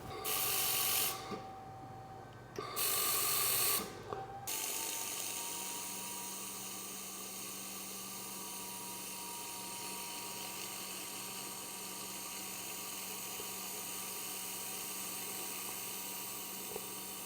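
Tack welds made with an XLaserlab X1 Pro laser welder, without filler: two loud bursts of broadband hiss, each about a second long, close to the mic. A steady hum and faint whine continue underneath and afterward.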